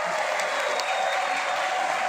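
Audience applause at a university seminar on big data in cyber security, a dense, steady wash of clapping from a crowd filling the whole stretch without pause.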